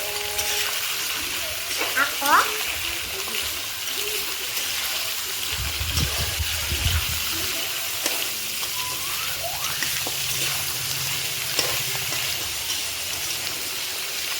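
Goat meat frying in a pan with a steady sizzle, punctuated by occasional stirring scrapes and a few soft knocks, close and moderately loud with no talking.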